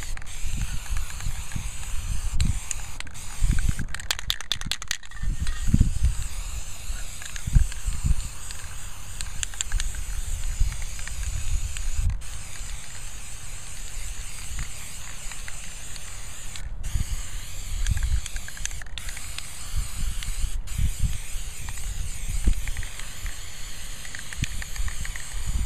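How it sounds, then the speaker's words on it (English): A spray paint can sprays black paint in a long continuous hiss. Clicks and the rattle of the can being shaken break in at a few points. "And you just spray black everywhere."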